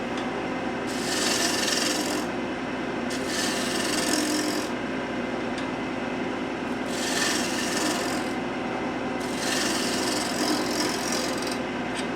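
Cherry wood teapot turned on a lathe, a gouge cutting in repeated passes of one to two seconds over a steady motor hum, close and loud with no talking.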